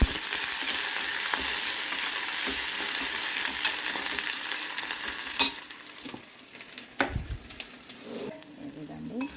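Soya granules and tomatoes fry in a pan on a stove with a steady, close sizzle, while a utensil stirs and scrapes against the pan now and then.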